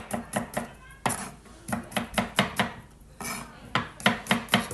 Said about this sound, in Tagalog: chachap-chapin lang natin itong garlic